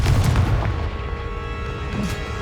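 A blasting Confringo spell explodes in the wizarding game Hogwarts Legacy, a loud booming burst followed by a rumbling decay with a few fainter crackles.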